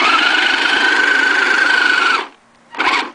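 The upgraded electric motor of a Radio Shack Mattracks RC vehicle whines loudly and close in a steady strained tone, cuts out briefly, then revs up again in a short final burst.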